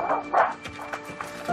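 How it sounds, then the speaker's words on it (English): A dog gives a few short, yappy barks and yips from inside a house during a bailiff visit, with muffled voices and background noise around it. "The dog's awake."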